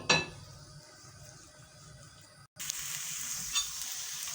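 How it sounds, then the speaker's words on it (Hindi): Onions sauté in hot oil in a pan, giving a steady close sizzle broken by a couple of brief clinks and stirring scrapes, with no talking. "ये प्याज हमारे हल्के हल्के से सौते होना शुरू हो गए।"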